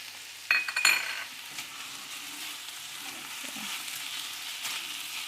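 Sauces being stirred into chicken with basil frying in a hot pan for a Thai dish, a steady sizzle with a few louder scraping stirs near the start, no talking.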